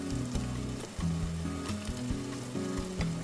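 Spices such as garam masala and turmeric fry in hot oil for korma biryani, a continuous close sizzle with brief stirring sounds and no voices.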